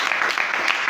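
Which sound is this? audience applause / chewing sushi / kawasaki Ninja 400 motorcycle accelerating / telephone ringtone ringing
audience applause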